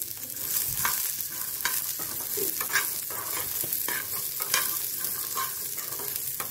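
Green peas with half a spoon of salt roast in a pan, giving a steady close sizzle broken by repeated scraping and clicking as a spoon stirs them, with no speech.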